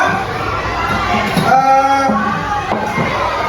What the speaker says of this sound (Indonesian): tepuk tangan buat kelompok Sultan Hasanuddin